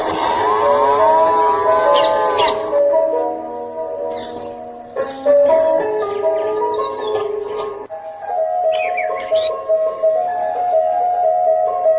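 A cow moos in a long, drawn-out call, with strong harmonic tones and sustained, loud lowing. Chirping and faint high tones sit on top, like insects or birds, and the sound carries on through much of the stretch.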